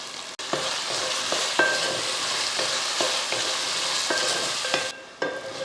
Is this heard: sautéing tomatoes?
yes